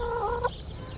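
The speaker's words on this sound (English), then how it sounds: "that was just a chicken decided to jump out of the pasture and come on up this way" A backyard chicken that hopped out of a pasture gives a short burst of clucking vocalizations close by, lasting about half a second, then only quiet outdoor background remains.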